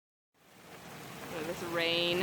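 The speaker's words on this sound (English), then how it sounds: "This rain has been going on for about 25 minutes now. It's just hammering us." Heavy rain hammering down while camping by a lake on crown land, a dense steady hiss that swells louder, with a faint tonal sound rising near the end.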